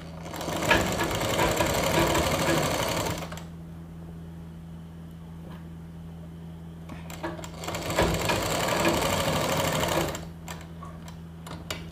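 A sewing machine stitches a seam on a garment, running in two steady bursts of rapid clatter separated by a quiet pause, close and alone without any talk.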